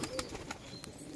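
Pigeons by their cage flutter and shuffle faintly nearby, soft wingbeats and scattered low cooing in a quiet space.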